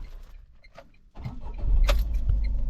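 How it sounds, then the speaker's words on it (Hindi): A Tata Tiago iCNG AMT 2024 hatchback's engine cranks and catches after a quiet moment with a faint click, then settles into a low, steady idle rumble close by. "गाड़ी जो है वो ऑन हो चुकी है।"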